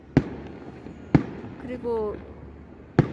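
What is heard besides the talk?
New Year fireworks in Baguio, Philippines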